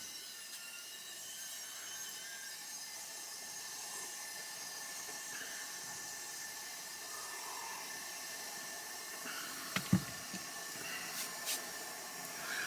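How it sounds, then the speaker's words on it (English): An electric kettle heats up in the cab of a new Mercedes Actros truck, a steady broad hiss and rumble that holds level throughout, broken by a couple of brief knocks near the end. "that noise you can hear is the kettle"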